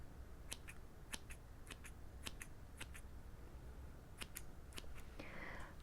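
Scissors snipping hair during a close-miked haircut, a series of crisp, short clicks at irregular intervals of roughly half a second, quiet and intimate against faint background hiss.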